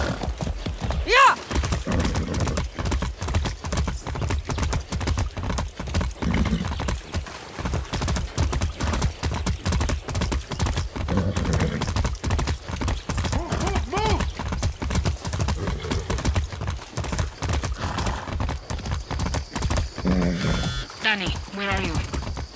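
Horse in the video game Far Cry 6 galloping with rapid, dense hoof clip-clops throughout, a brief whinny near the start, and a voice speaking over the hoofbeats.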